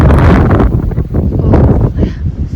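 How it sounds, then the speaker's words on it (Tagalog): Wind gusts during a snowstorm in Canada, loud buffeting rumbles hitting the microphone in close bursts, with a voice speaking over it. "Oh, it's windy."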